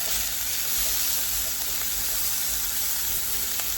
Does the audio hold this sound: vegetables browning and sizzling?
yes